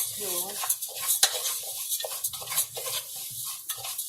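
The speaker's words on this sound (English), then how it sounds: "Stir, stir, stir." Rice being stirred in a cooking pot, with scraping and clinking of a utensil against the pan in short strokes, heard close up alongside a voice.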